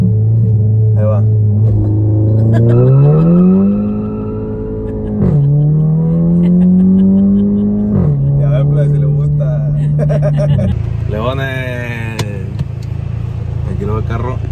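Drag racing car in a video game revving and accelerating, a loud engine drone climbing in pitch through repeated gear shifts, with people talking over it.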